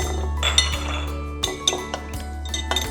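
A spoon clinks against a glass while a calamansi drink sweetened with honey is stirred, giving a quick run of bright, close metallic taps over a low steady hum, with no talking.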